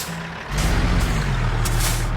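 A heavy truck in American Truck Simulator, pulling a 66,000-pound load, gives a sudden hiss of air brake release, then a loud, close, steady diesel engine drone with a slowly shifting tone.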